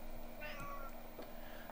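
A cat meows faintly in the background, a couple of short tonal cries over a steady noisy room hum during Minecraft gameplay.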